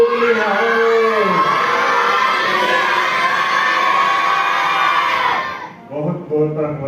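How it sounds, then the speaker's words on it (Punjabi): A crowd at a Gurmat event in village Dhandoi, Batala, roars a Sikh jaikara in unison, a loud sustained chorus of voices that fades out near the end as a single voice resumes speaking. "ਸਾਰਿਆਂ ਨੇ ਜੈਕਾਰੇ ਦੀ ਗੂੰਜ ਦੇ ਵਿੱਚ ਆਵਾਜ਼ ਦੇਣੀ ਹੈ"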